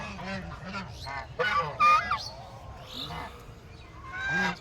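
Chinese ducks feeding outside at a farm give loud nasal honks and calls, several overlapping at close range, over a low rustling background.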